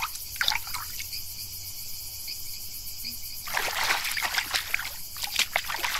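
Trickling, dripping water as a character drinks in the video game Saurian, a soft steady liquid patter with a brighter burst of splashing partway through, alone without talk.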